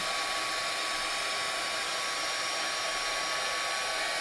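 A heat tool blows hot air steadily over glittery gold sparkle paper for a junk journal cover, a constant loud whooshing hiss from start to finish with no talking.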